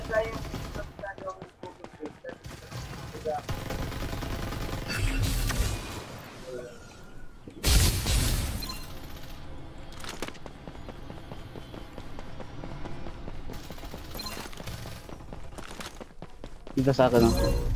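Automatic gunfire and shooting effects in the battle royale game Farlight 84, with repeated loud bursts and volleys across the whole span, mixed with in-game voice lines and other combat sounds.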